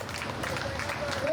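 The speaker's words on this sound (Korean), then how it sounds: "환호와 박수가 터져나온다" A crowd of spectators cheers and claps steadily for a reenacted late-1800s cowboy gunfight show in a Texas town, a continuous broad wash of applause and shouts at moderate distance.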